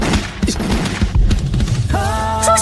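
A short volley of gunfire in a historical drama scene bursts in quick, overlapping cracks and thuds, followed by a ringing, sustained tonal sound.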